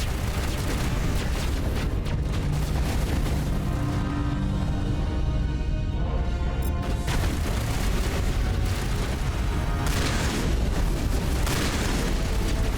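Enemy turrets in the Mass Effect game firing and exploding, a dense, continuous barrage of booms and bursts that fills the whole stretch at steady loudness with no let-up.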